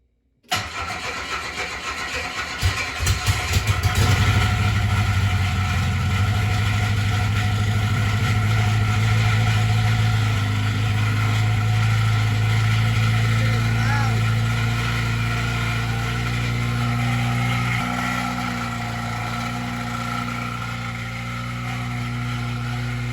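A 1982 VW Rabbit engine cranks and catches, then settles into a loud, rough, steady idle that runs on without pause.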